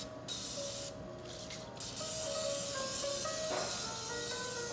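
Short bursts of non-stick cooking spray hiss onto a pan, followed by a longer continuous spray with faint high ringing tones underneath.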